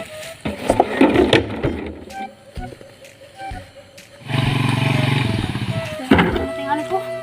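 Passing motorcycles on a road, a steady engine drone rising loud in the middle and fading, with people talking nearby before and after.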